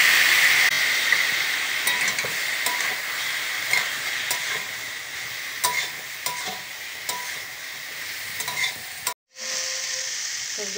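Carrot and potato fry with garlic and spices, making a loud, constant sizzling hiss broken by repeated stirring scrapes and a brief pause near the end before the sizzle resumes.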